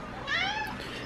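A single short cat meow, close and clear, sliding down in pitch over a low room hum.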